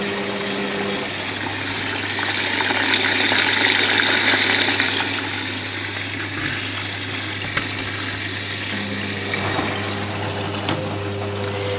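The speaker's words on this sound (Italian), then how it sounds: "Il carico d'acqua supplementare avviene a tempo ed è strettamente legato alla pressione." Water gushes steadily into the drum of a Zerowatt Spaziozero 062 washing machine during a timed extra rinse fill, with a constant low motor or pump hum beneath a broad hissing flow that swells briefly, then settles.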